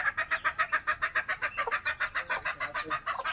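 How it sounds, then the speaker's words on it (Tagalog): A kept chicken clucks in a fast, steady run of close, repeated pulses with no pauses in between. "Ito nga pala yung manok na pinalagaan namin sa kapatid ko."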